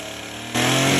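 A chainsaw runs steadily while leveling logs for a lumber lean-to shed, then jumps to a louder, harsher full-throttle roar halfway through, close and continuous.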